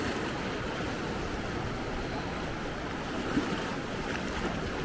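Ocean waves breaking on Maspalomas beach, Gran Canaria, with water arriving from both sides, form a steady, loud broadband roar of surf and wind that runs unbroken throughout.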